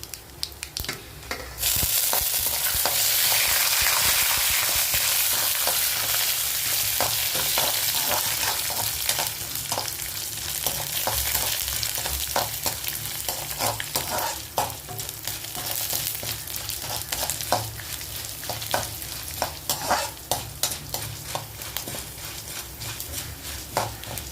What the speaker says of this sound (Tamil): உளுந்து, கடலைப்பருப்பு ரெண்டுத்தையும் ஒன்றா போட்டுடலாம். மூணுத்தையும் ஒன்றா போட்டு அதை வதக்கணும்.